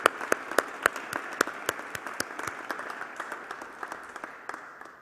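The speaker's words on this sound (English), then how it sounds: "Please join me in giving them a round of applause." Applause for volunteers at a college homecoming convocation and alumni awards ceremony: a modest crowd claps steadily with sharp individual claps standing out, fairly distant in a large hall, no talk over it.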